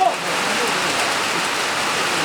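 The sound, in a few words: rain falling on a cricket ground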